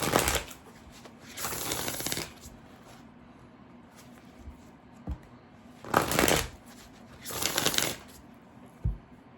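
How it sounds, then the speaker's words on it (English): An Earth and Bone Oracle card deck is shuffled close up in four riffling bursts of about a second each, crisp fluttering card noise separated by quiet pauses and a soft tap or two. "I'm going to pull an oracle from the Earth and Bone Oracle deck"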